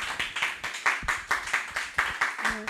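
Clapping from a small church audience praising Jesus at a testimony gathering, a quick uneven patter of hands with a few loud individual claps standing out, fairly close and alone, with no talk over it.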